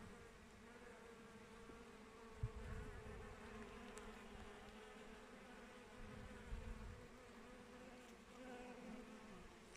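A steady, dense buzzing hum of many honeybees over a buckwheat field fills the air continuously, with a few louder thumps and passes close by.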